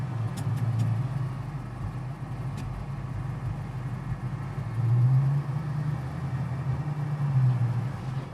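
A 1968 Mustang GT/CS restomod idles in first gear, holding a steady, close, low engine rumble that swells slightly a couple of times, with no talking over it.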